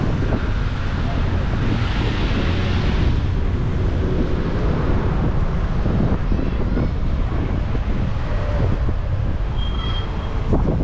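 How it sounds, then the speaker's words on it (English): Strong wind roars steadily across the microphone on a busy shopping street in Southall, London, a loud continuous buffeting rumble that masks most other street noise throughout. "Really windy today."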